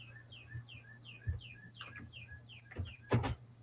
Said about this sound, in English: Listen, there's spring birds out there.